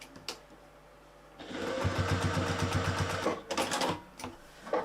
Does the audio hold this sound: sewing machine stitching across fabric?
yes